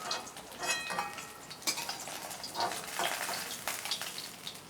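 Fish pieces shallow-frying in oil in a pan make a light crackling sizzle with intermittent bursts and spatula clinks, moderately faint and close.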